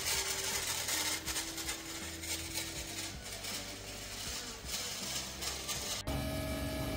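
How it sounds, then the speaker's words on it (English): A turbocharger's compressor wheel scrapes against its housing, giving a continuous harsh grinding and rattling mechanical noise that runs unbroken throughout, with a sudden shift in tone near the end. "The noise you can hear is from the compressor wheel scraping on the turbo's housing."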